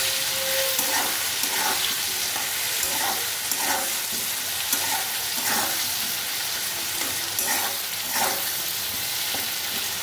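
Onions and a green chili frying in hot oil, a loud, steady, dense sizzle with faint periodic stirring scrapes throughout and no talk.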